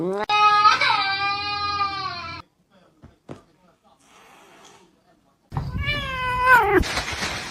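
A cat meows in two drawn-out, loud calls separated by a few seconds of near silence with faint soft noises.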